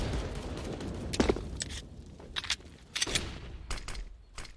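CZ pistol gunshots in the Counter-Strike video game: several sharp, separate cracks spaced irregularly over a few seconds, moderately loud, with no talk over them.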